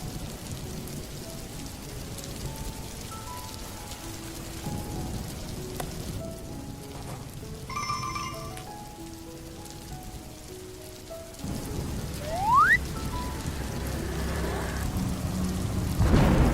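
A dense, steady wash of rain drums continuously on surfaces, with faint tonal sounds and a rising whistle-like tone over it.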